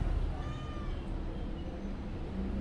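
A house cat meows several times at close range, the drawn-out calls rising and falling over a low background hum.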